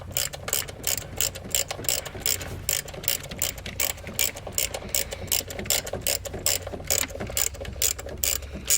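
Rapid clicking of a ratchet wrench backing out an 8mm bolt on a Land Rover Discovery Series II engine, a steady close run of sharp ticks over a low background hum.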